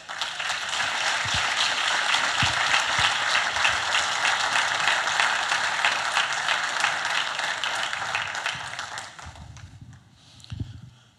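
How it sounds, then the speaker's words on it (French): A church congregation gives a strong, sustained round of applause for the Lord, a thick, steady clapping that fades out near the end, followed by a few quiet knocks. "Est-ce qu'il y a quelqu'un qui peut donner une bonne main d'acclamation pour le Seigneur?"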